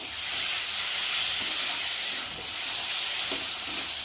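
A pan of ridge gourd and fish frying gives off a loud, steady hiss and sizzle close up, a continuous broad wash with only slight swells and no talking.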